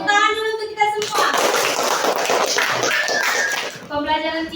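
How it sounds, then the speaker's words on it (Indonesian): Children in a classroom clap together in a lively burst lasting about three seconds, framed by a voice speaking before and after. "tepuk tangan dulu untuk kita semua"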